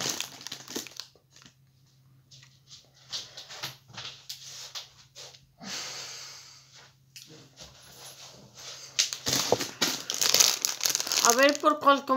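A plastic or foil wrapper on a toy Easter egg is crinkled and torn open in bursts of crackling and ripping, close and fairly loud, with a person talking at intervals in between.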